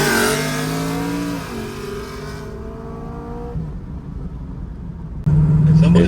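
Camaro SS with a 700+ horsepower naturally aspirated heads and cam build on a drag run, engine revving hard with rising pitch, dropping as the car moves away, then a loud close roar returning near the end.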